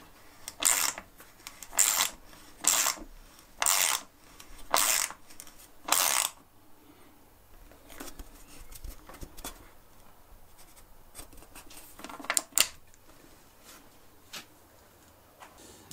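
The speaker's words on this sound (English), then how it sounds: "And it's just a case of screwing them in." Screws being driven into a wooden board on a carving stand build, heard as a run of six loud, evenly spaced bursts, then quiet and two more short bursts near the end, with no talk.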